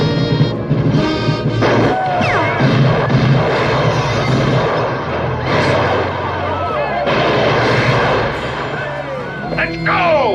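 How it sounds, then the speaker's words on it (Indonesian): Gunfire from a cowboy gang's shootout against military factions in a film, dense crashes and bangs layered over a dramatic orchestral score, with shouting voices mixed in near the end. "Kemudian baku tembak itu pun terjadi, memakan korban dari kedua belah pihak"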